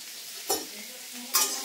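Mango pickle stirred and fried in a pan, a steady close hiss of frying broken by two brief scraping stirs, with no talking.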